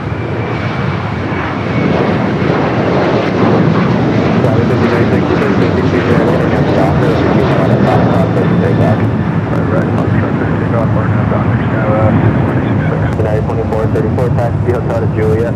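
Jet aircraft at LAX, a loud sustained engine roar that holds steady close by throughout, with a voice talking over it.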